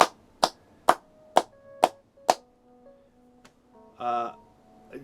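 A single person clapping hands six times in an even, deliberate rhythm, close and crisp, followed by a short pause and a brief burst of other sound near the end.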